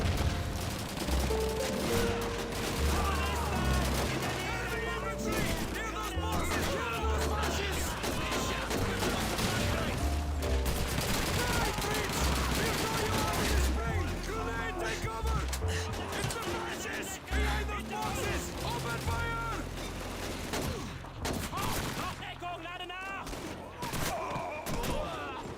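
Rapid bursts of gunfire and automatic weapon fire crackle through a video game battle, dense and continuous, with voices talking over the shooting throughout.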